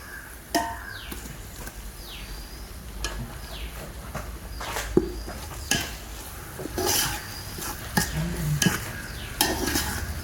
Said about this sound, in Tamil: வெங்காயம் நல்ல பொன்னிறம் ஆகிறது வரை நல்லா வதக்கணும்